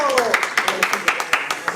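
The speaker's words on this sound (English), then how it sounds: "We should be clapping." Audience at a school board of education meeting clapping, a brisk run of sharp, evenly spaced claps from a small group, with a voice talking briefly at the start.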